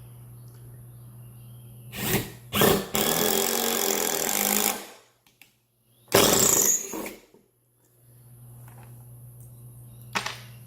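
A Black & Decker impact driver drives screws in two loud bursts of whirring and hammering, the first about three seconds long after two short blips and the second briefer, with quiet stretches between.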